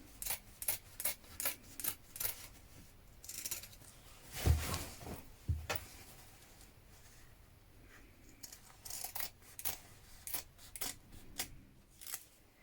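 Scissors trimming fabric on a vintage-style coat being sewn: several quick crisp snips in a row, a brief pause with a rustle and thump of handling, then another run of light close cutting snips.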